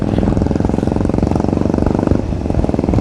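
Royal Enfield motorcycles fitted with changed aftermarket silencers ride together on a road, their engines producing a loud, steady, throbbing drone close by with a constant rhythmic thump and no pauses, no talking.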